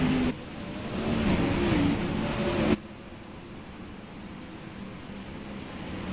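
Pro late model stock cars racing at Charlotte, a loud dense roar of engines passing close for a few seconds, then cutting to a quieter, more distant engine drone.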